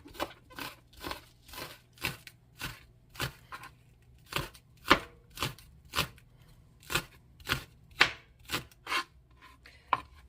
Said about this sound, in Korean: 자, 이 정도로 파기름을 낼 파는 채를 썰어 주시고요